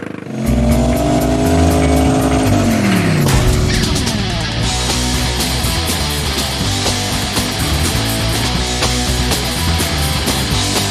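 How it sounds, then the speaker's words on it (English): A hot rod car engine roars loud and close during land speed racing, revving up through rising gears with a sustained heavy drone and no talking. "On this episode of Hot Rod Garage, we got land speed racing!"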